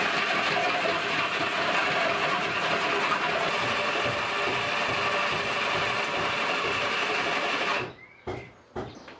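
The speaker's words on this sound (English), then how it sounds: "So now I need to cut out this old bracket as it no longer works and is just plain in the way." A power tool cuts out an old bracket on a car, close to the brake line. A loud, continuous mechanical whine and buzz runs unbroken for about eight seconds, then cuts off, followed by a few short bursts and quieter knocks.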